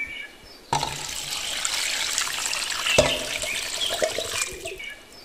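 Water pours from a tap into a cooking pot for a fish romazava, a steady splashing rush that starts abruptly and runs for several seconds before cutting off.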